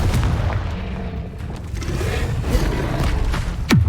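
Spell explosions and bursts in the video game Hogwarts Legacy, a continuous run of booming blasts and crackling impacts with a sharp sweeping hit near the end, loud and dense without voices.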